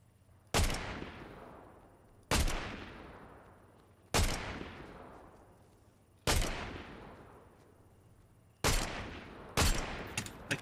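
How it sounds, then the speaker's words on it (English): Gunfire in the shooter game Fortnite: six loud single shots spaced a couple of seconds apart, each a sharp crack with a long fading echo, the last two closer together, no talking. "Someone shooting right in front of us"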